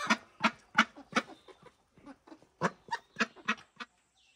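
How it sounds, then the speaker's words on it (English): Backyard poultry gathered in a chicken run beside a newly built coop give a series of loud, close, nasal calls in uneven bursts, pausing briefly midway before another run of calls. "pretty much all the birds have came out and decided to join me in the chicken run"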